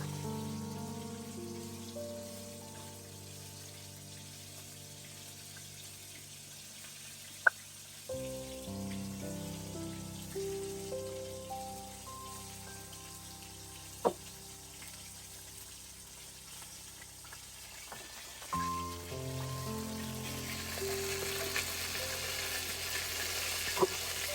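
Chicken pieces for a zinger burger fry in hot oil, a dense, continuous sizzle and crackle close up, with a few sharp clinks and soft background music throughout, no speech.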